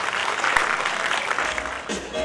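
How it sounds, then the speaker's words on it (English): An event audience gives a warm round of applause for a speaker being introduced, a steady dense wash of clapping that fills the space, with a voice briefly heard over it. "everybody please give a warm round of applause for Miss Elvira Ablaza"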